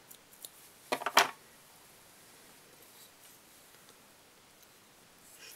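Scissors snip fly-tying hair for a Black Hitch tube fly: a quick cluster of two or three sharp, close cuts, then quiet room tone.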